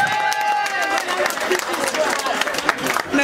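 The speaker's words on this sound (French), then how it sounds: "On applaudit pour Yajane" An audience claps and cheers in a steady burst of applause that lasts throughout, with a voice speaking over part of it.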